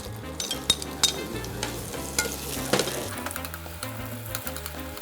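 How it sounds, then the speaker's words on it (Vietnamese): Onions sautéing in hot oil in a pan, a steady sizzle broken by sharp stirring clicks and scrapes, close and moderately loud with no voices. "Mình xào hành tây cho nó thơm lên."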